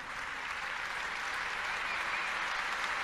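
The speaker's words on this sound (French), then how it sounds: "j'aimerais qu'on fasse une ovation" Audience applause at a Café Joyeux gathering, a steady, moderately distant wash of clapping that holds evenly for about three seconds with no voices over it.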